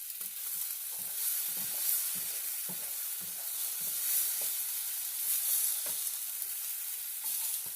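A cheesy omelette sizzles steadily in a frying pan while it is rolled over, a constant high frying hiss broken by soft scraping taps of the utensil.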